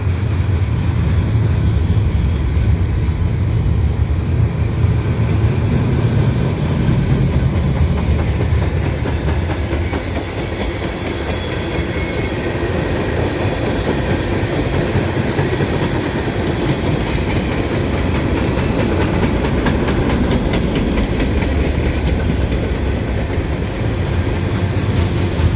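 CN westbound fast freight train passing at Dorval, a loud continuous roar of rolling wagons with steady wheel rumble and clatter throughout, close by and sustained.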